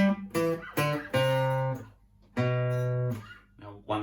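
An electric guitar plays a riff, picking out a sequence of distinct sustained notes in a slow, repeating pattern, close and clear with no other sound.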